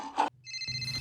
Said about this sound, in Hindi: बेटे वो घंटी बज रही है